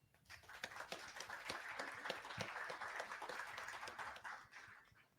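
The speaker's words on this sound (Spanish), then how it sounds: "Un aplauso, por favor." Audience applause at a Mexican agri-food finance panel forum, a steady medium-distance clapping from a crowd that swells quickly and holds for about five seconds before fading.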